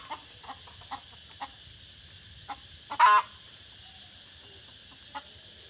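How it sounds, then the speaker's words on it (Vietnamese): A chicken clucks in short, sharp, sparse calls spaced across several seconds, with one louder squawk midway, fairly close against a quiet background. "À, đi quay con gà nhá."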